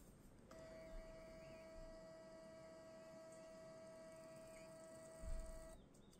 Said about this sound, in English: And then this should just print.